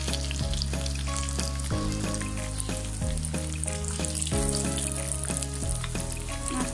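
Hilsa fish frying in hot oil without onion: a continuous, close crackling sizzle with small spits and pops, under steady background music.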